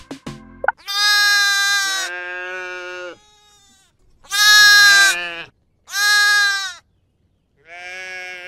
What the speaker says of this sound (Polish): To owca.